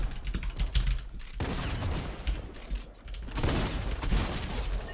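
Rapid bursts of gunfire in the battle royale video game Fortnite, dense and continuous over several seconds with a clattering, mechanical edge, loud and close with no talking over it.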